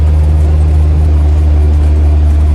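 A tow truck idles close by in a workshop setting, its loud, steady low engine drone and rumble holding constant throughout, with no speech.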